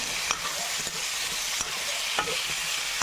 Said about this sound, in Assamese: জলকীয়াটো কাটি একদম তেলৰ লগতে একদম পূৰা লৰাব লাগে